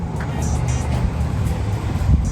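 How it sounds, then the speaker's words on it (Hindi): A car backs up nearby with a low, steady engine rumble and some light rustling overhead, moderately loud throughout. "गाड़ी बैक हो रही है"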